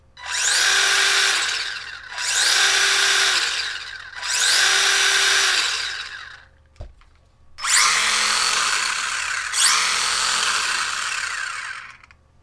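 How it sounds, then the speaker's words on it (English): Brushless motor of a Haiboxing Ravage 16889 1/16 RC truck on a 2S battery, whining loudly in four separate revving bursts of about two seconds each, with a sharp click between the third and fourth. "Obviously, the brushless version does sound a little bit faster."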